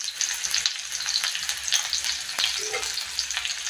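Sliced onions frying in a small amount of oil in a pan give a steady, close crackling sizzle with scattered sharp pops, heard alone without talking.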